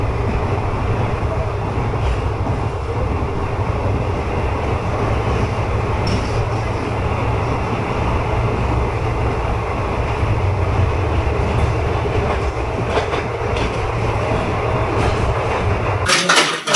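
A local train on the Agartala–Dharmanagar route in India rumbles steadily along the rails, heard from inside the carriage as a loud continuous low roar with faint rattles throughout, ending abruptly.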